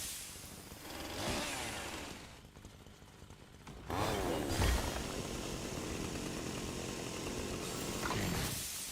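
Chainsaw weapon in the video game Fortnite revving and cutting with a harsh, buzzing whine, with louder bursts and whooshes through the middle and end, no talking.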